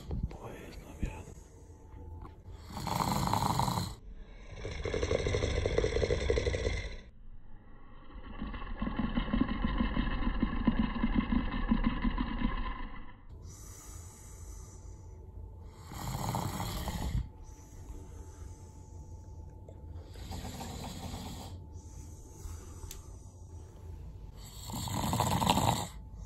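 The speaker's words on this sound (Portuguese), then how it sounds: "eles roncam, parece da porra aqui" Several people snoring loudly nearby in long, rasping rounds that overlap and repeat, with quieter breathing between them and occasional voices in the room.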